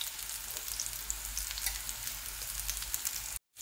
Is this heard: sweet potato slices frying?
yes